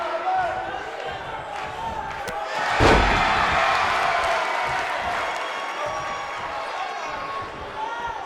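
Arena crowd roaring in WWE 2K19 during a wrestling match as Sid rampages, a broad steady swell of cheering that peaks with a sharp slam near three seconds, under excited commentary.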